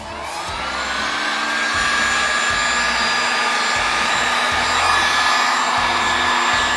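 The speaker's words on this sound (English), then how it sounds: "Let's try this heat gun here." Cheap Harbor Freight heat gun blows hot air in a steady, loud, close whoosh, ramping up over the first second and then holding a constant fan roar throughout.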